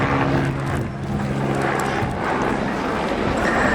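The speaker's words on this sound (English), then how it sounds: "I expect this to be the helicopter equivalent of the stall turn, the pedal turn." A helicopter flying a pedal turn during the RIAT 2013 air display gives a loud, steady engine and rotor drone with a slight dip in level partway through, heard from a distance across the airfield.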